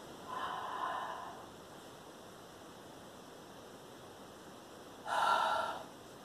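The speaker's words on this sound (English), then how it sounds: "A thing to try is then breathing in" Two deep breaths in, each a breathy airy inhale lasting about a second, the first near the start and the second after a long quiet pause, heard close and alone.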